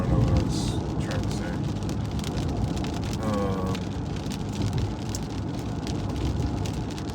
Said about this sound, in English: It's raining here in Southern California.